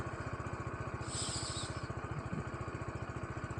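A Kawasaki Z125 motorcycle engine runs at a steady, even pulse. It is a close, buzzing putter with a brief hissy swell partway through and no talk.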